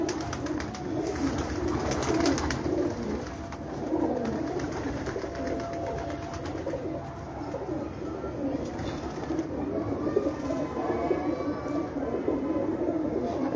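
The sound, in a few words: pigeons cooing on a rooftop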